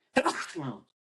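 A single loud, close sneeze stands alone, with a sharp burst that trails off into a brief voiced tail.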